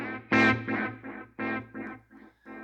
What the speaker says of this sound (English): this is a super slow delay